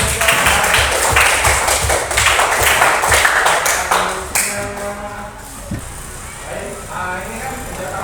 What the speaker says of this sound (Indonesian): Oke, tepuk tangan buat kawan-kawan.